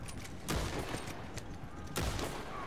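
Gunfire in Red Dead Redemption 2 Online: two sharp, heavy shots about a second and a half apart, with lighter pops between them, all fairly faint over a constant background.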